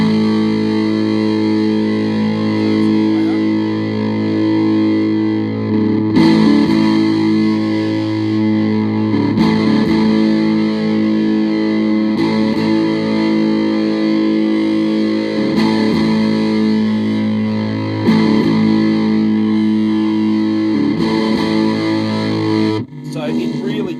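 An electric guitar played through a retro teddy fuzz pedal gives a thick, grating distorted tone, with chords struck and left to ring in repeated bursts for about twenty seconds.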